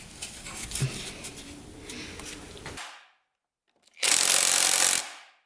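A power tool runs up against the nut on a two-stroke dirt bike: a steady mechanical whir, a brief pause, then a louder short burst nearby.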